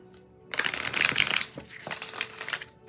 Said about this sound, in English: Give it a good shuffle. Fairly easy to shuffle.